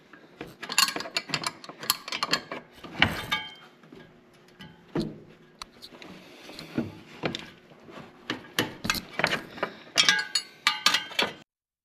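Tools work bolts on the harmonic balancer of a Jeep YJ, heard as repeated close ratcheting clicks and metallic clinks in short bursts with quiet gaps between them.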